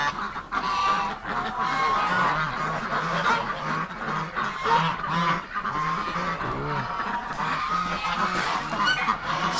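A dense flock of molting geese honks continuously and loudly, with overlapping calls and cackles close by throughout.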